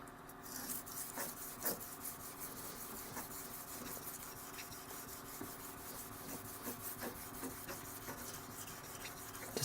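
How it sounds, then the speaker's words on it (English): A blade is sharpened with diagonal strokes on a dry Shobudani suita natural stone, giving a quiet, steady gritty rasping with repeated scraping strokes, close and alone. "When you use dry stones, you should rub them down really good."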